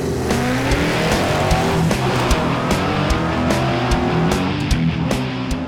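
A drag race car with a retuned big block engine roars at the track in one sustained, loud, rasping run, steady and close throughout.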